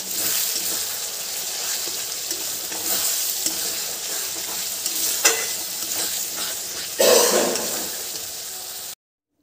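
Salt, turmeric and dried red chili powder sizzle and fry in a pan while being stirred for chicken darbari, a steady close hiss with occasional scraping and a louder burst near the end before it cuts off.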